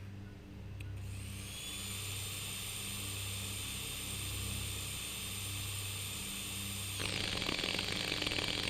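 A drill in the video game Stories Untold runs as a steady, sustained whine with a mechanical hum underneath, shifting to a harsher, louder grinding near the end, with no voices.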